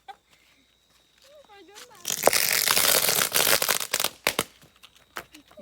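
Small noise-making firecrackers at a rural northeastern Brazilian Saint Anthony bonfire festival in June burst into a loud, dense crackling that lasts about two seconds, followed by a few scattered pops, with nearby voices including a child's.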